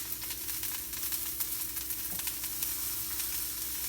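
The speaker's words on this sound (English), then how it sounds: "As they're going in, and the pan frying in there," Food sizzles steadily in a hot pan with butter, a continuous crackling hiss close by and fairly loud, without any voices.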